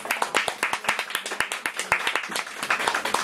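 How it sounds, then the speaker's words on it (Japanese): A live audience at a Hololive VTuber event claps for Oboro Mumei. The applause is brisk and close, with fast overlapping hand claps throughout. "おぼろうずきむめさんにもう一度大きな拍手お願いします"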